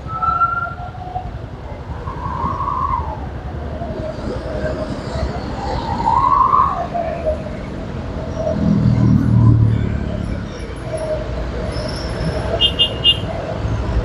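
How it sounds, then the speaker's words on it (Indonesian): Large trucks and vehicle carriers passing on a road near Barru in South Sulawesi, a continuous engine rumble with tonal drones rising and falling as they go by, moderately loud. "truk-truk juga sudah mulai lewat"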